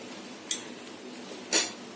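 Two sharp metallic clinks a second apart as a lid is set on a pot of spicy crab masala simmering on low flame, each brief and near, with quiet background between.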